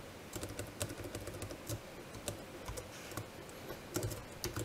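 Quiet, steady typing on a computer keyboard during a coding session, a soft run of small key clicks with brief pauses and no talking.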